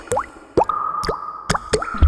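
Four distinct water drip plops land in a quick irregular sequence, each a bright bubbly pluck, with a faint sustained tone sounding between them.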